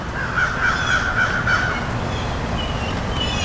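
Several crows caw in a quick series of harsh calls outdoors, moderately near, over a steady background hiss.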